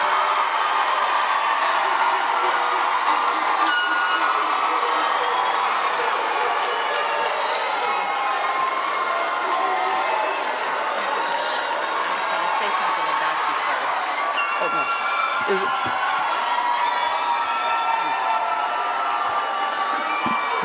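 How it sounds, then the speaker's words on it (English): Large audience at a winter graduation ceremony applauding and cheering for graduates, a dense sustained wash of clapping with scattered whoops, steady and broad throughout. "Let's give our graduates a round of applause."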